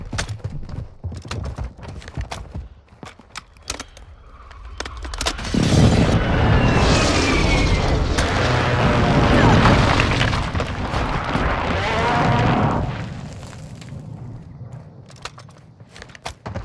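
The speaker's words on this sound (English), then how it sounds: "Hostile airstrike near your location." An airstrike in Call of Duty Warzone 2 lands as a long, swelling roar of explosions, rumbling loudly for several seconds before fading, with scattered sharp clicks and shots before and after.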